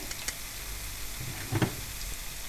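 Pieces of chhana, fresh cheese curd, frying in oil, giving a soft steady sizzle with a couple of brief louder bursts as the pan is shaken, close and fairly quiet.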